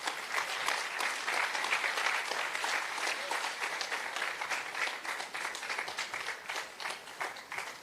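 Sustained audience applause at the grand opening of a beach club in St. Thomas, a dense, steady wash of clapping from a sizable crowd lasting throughout, with no speech over it.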